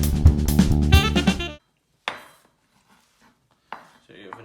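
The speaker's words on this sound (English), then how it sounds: "I will cut this fast forward. Start with the white pieces." A knife chops spring onion on a board in a quick run of sharp, close knocks that stop abruptly, followed by a few sparse, fainter taps and a single short voice.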